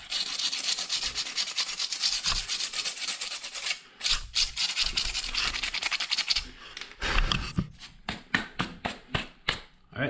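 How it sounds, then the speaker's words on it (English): Sandpaper rubbed by hand over a patched spot on a cast concrete statue, giving steady close scratchy strokes at first, then a short pause and quicker bursts of rubbing with gaps between them. "So I'm just gonna sand this out with some sandpaper."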